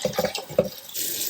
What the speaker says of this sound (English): we're gonna rinse it completely clear